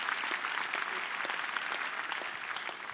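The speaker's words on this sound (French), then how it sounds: "Oui, vous pouvez vous applaudir" A dense, steady round of audience applause fills a live French talk event, many hands clapping together at an even level throughout.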